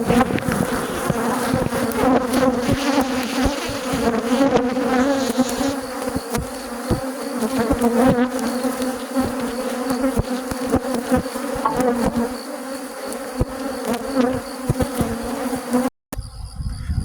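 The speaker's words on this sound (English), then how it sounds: "this is the load of stolen bees that I unloaded last night" A dense, steady buzz of many honey bees humming together close by, continuous for the whole stretch with a brief dropout near the end.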